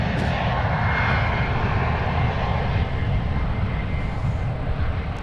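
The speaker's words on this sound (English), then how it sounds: "Queen of the Skies coming in from Frankfurt in the 100-year anniversary livery" A Boeing 747 in 100-year anniversary livery arrives from Frankfurt at San Francisco, its jet engines a loud, steady broadband roar throughout, close and continuous.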